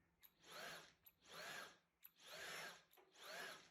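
A Roborock cordless vacuum motor whirs up and cuts out four times in a row, each burst lasting under a second before it quits, fairly loud and close with no talk.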